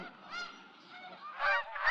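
Geese honk nearby in a few nasal calls, a faint one followed by two louder honks close together near the end, over a quiet outdoor background.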